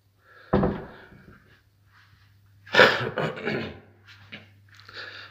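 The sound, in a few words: door closing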